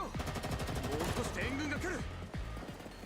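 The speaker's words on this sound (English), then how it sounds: "more gunshots and explosions resound beyond the fortress" Gunfire rattles in a battle outside a fortress in the video game GFL2: Exilium, with rapid shots and blasts thick at the start, then thinning out as a voice talks over it.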